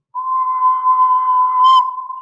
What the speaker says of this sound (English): people usually whistle at around 1 kilohertz